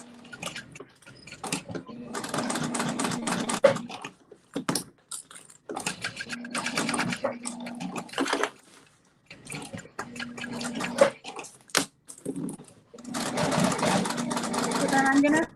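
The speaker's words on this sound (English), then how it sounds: "So then I'm gonna sew down across some of my stitching" Home sewing machine stitching a fabric wallet, running in several bursts of rapid mechanical whirring separated by pauses, with a person talking quietly in between.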